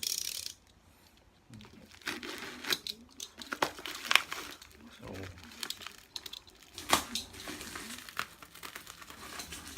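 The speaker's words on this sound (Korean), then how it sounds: "일단 한번 박스를 뜯어 보겠습니다." A cardboard shipping box wrapped in yellow tape is torn open for a microphone unboxing, making close bursts of crinkling, ripping and scraping with short pauses between the pulls.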